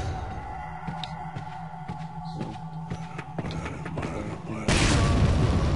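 A grenade detonates in Resident Evil 4 Remake, a sudden loud broadband blast near the end that follows a stretch of tense, droning low game ambience.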